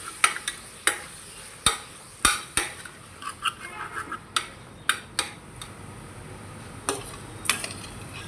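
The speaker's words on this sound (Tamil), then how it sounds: "சேர்த்து நம்ம நல்லா வதக்கிடலாம்." Chopped tomatoes are added to softened onions and sautéed in a pan, giving a soft sizzle beneath irregular, sharp clinks of a spatula striking the metal, spaced a second or so apart.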